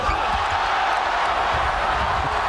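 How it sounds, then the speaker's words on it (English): A college basketball arena crowd roars after a blocked shot in a Kansas at Nebraska game, a loud, sustained wall of cheering that fills the whole moment with a steady, dense roar. "The block woke up this crowd."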